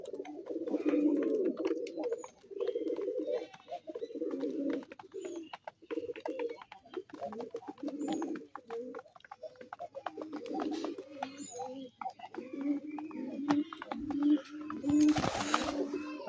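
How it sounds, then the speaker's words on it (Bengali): Pigeons coo continuously in a loft, overlapping low rolling coos close to the microphone with brief pauses, plus a short rustling burst of wing flaps near the end. "এই যে আমার গররা কবুতরটা চলে আসছে।"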